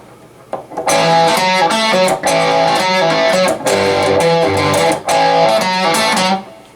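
Crunchy distorted electric guitar plays a short, punchy rock groove, loud and close, with rhythmic chord stabs and brief gaps between phrases.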